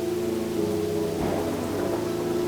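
Heavy rain pours down on a stormy night as a dense, steady hiss, with a low rumble swelling briefly in the middle and no voices.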